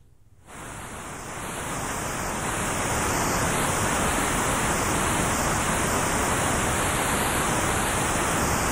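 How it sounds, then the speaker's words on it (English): Unfiltered white noise from a synthesizer's noise generator starts abruptly after a brief silence, then holds as a steady, dense, full-range hiss that swells slightly and stays loud and constant. "let us use the white noise generator. Here it is again, unmodified."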